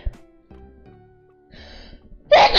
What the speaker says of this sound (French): C'est dur de s'en remettre quand on éternue.